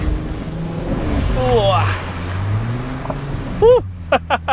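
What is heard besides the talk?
Porsche Cayenne Gen 1 engine revving higher off-road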